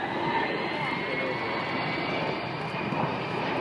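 Avro Vulcan bomber XH558 roars past at the Dunsfold Wings and Wheels airshow, its four Bristol Olympus jet engines making a loud, continuous, rumbling roar throughout, with a commentator talking over it.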